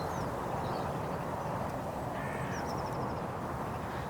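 Magpies calling near a freshly shot bird outdoors, a few short chattering calls at middle distance over a steady wind-like background roar.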